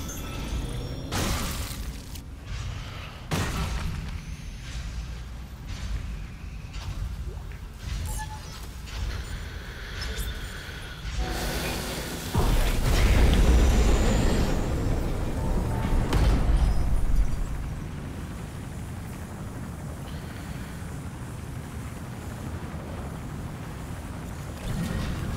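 Spaceship engines ignite in the Dead Space video game, a deep rumbling roar that surges and swells midway, surrounded by sharp metallic hits and a fading low drone.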